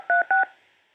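Telephone keypad tones punching in a conference-call PIN: two loud, crisp dual-tone beeps in quick succession, each about an eighth of a second, then a faint fading line hum with no voices.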